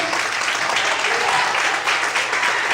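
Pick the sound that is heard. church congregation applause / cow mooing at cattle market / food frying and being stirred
church congregation applause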